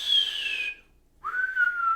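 Someone whistles two sustained notes close by, the first sliding downward, then a short silence before a lower steady tone.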